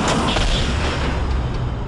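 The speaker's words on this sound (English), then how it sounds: "On my command, fire the Titan cannon!" A loud, sustained rumbling blast with heavy low-end booming and a crackling, dense roar that continues steadily throughout, like a massive cannon discharge: a Titan cannon firing in Warhammer 40,000: Dawn of War - Dark Crusade.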